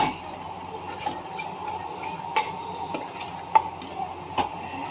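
A tadka being stirred into mixed dal in a pot, with soft scraping and stirring through a faint sizzle and a few sharp clinks of a utensil against the pot at irregular intervals, fairly quiet and close.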